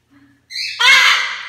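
Big birds kept inside a house let out a loud, harsh squawk lasting about a second, close to the mic, after a brief faint tone.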